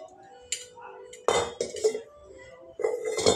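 A bowl is set down and a copper pot picked up in a kitchen, heard as several sharp metallic clinks and clatters in short bursts, close by, with quiet gaps between.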